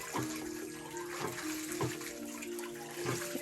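Groundwater pours steadily into a stone basin at a Japanese shrine, a continuous near splashing stream with a few louder gurgles, no talking.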